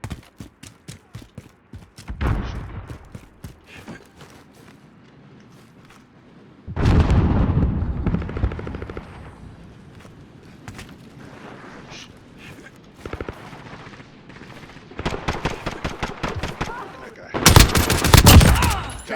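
Video game gunfire in a team deathmatch shooter, with bursts of rapid automatic shots sprayed in clusters and separated by brief pauses, the loudest burst near the end; faint game voice callouts sit underneath.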